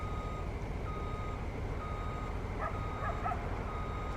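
A truck reverses with a steady series of evenly spaced reversing beeps over a constant low engine rumble, clear but moderate in level, with a few faint yips or whimpers near the end and no talking.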